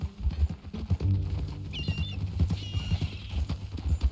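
A horse in a video game clip-clops with steady, close hoofbeats in a rhythmic walking pattern, and a brief whinny rises partway through.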